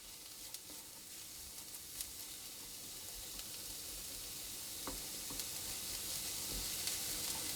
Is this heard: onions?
yes